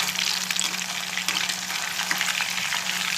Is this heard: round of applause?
no